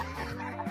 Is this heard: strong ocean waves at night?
no